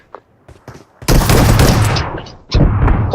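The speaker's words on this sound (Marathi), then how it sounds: "8 गोळ्या चालवतोय." Rapid burst of video game gunfire in a 1v2 match, a loud sustained volley after a few quiet taps, then a second burst near the end.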